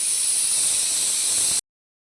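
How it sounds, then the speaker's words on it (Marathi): Steam hisses loudly and steadily from a pressure cooker releasing its pressure after cooking rice, a continuous bright rush that cuts off abruptly at the end. "मस्त कुकरची वाफ गेली आहे"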